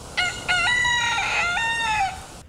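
A rooster crows loudly and close by, one long cock-a-doodle-doo with a rising start and a drawn-out, wavering finish.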